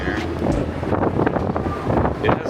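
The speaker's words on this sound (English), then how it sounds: "But it is still super windy." Strong wind roars steadily and loudly across the microphone on a cruise ship deck, a constant rushing buffet with no pauses.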